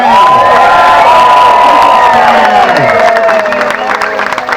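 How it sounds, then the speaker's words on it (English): A large crowd at a Flag Day rally in Berryville, Virginia cheers and whoops loudly, with shouts and scattered clapping sustained throughout before easing slightly at the end. "Look at this crowd."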